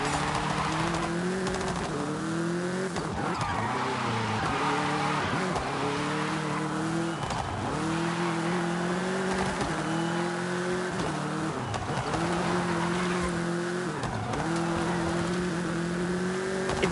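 A car drifts through corners in Forza Horizon 5, its engine droning loudly and steadily with wavering pitch as the rear tires break loose, repeated pitch dips marking each slide over about seventeen seconds.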